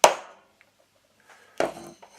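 Sharp metallic taps ring out alone as a small hammer strikes a hole punch into paper: one strike, a pause with faint small clicks, then two more quick hits near the end.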